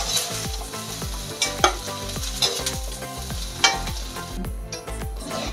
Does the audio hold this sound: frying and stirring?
yes